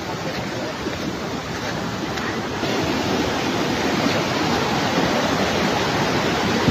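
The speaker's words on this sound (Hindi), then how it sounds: "बाय रोड पानी आ रहा है गाइस" Floodwater after a cloudburst in Raipur, Dehradun rushes along a road in a continuous broadband roar, loud and steady throughout, growing slightly stronger partway through, with no talk.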